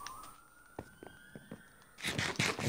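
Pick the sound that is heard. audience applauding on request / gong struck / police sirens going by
police sirens going by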